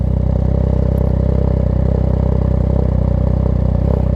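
A motorcycle with its exhaust baffle missing idles steadily, giving a loud, close, continuous rumble with an even pulsing throb and no pauses.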